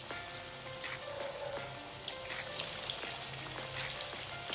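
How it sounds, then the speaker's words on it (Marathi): Cheese veg nuggets deep fry in hot oil over medium heat, giving a continuous close crackling sizzle with scattered pops and no talk. "आता आपण हे नगेट जे केलेले आहेत ते आता याच्यामध्ये हळूहळू सोडायचे आहेत आणि मध्यम आचेवर हे व्यवस्थित गोल्डन कलरवर फ्राय करून घ्यायचे आहेत आपल्याला।"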